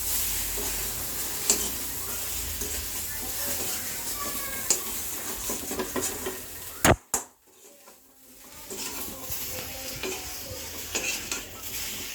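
Spices stirred in oil in a pan, close sizzling with repeated spoon scrapes and clanks, a sharp knock and brief near-silence midway, then the frying and stirring resume.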